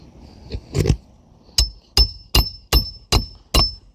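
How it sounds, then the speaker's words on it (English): Nails being hammered into roof decking, with six sharp, evenly spaced hammer blows ringing out close and loud after a couple of softer initial taps. "I'm just hammering just enough to make sure that it gets through the decking."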